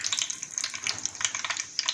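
Mustard seeds crackle and pop in hot oil, a rapid, irregular patter of sharp little snaps over a soft sizzle, close and fairly loud with no talking.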